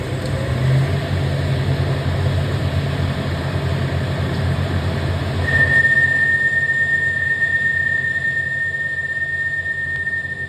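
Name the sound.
CNC lathe boring bar whine cutting internal trapezoidal thread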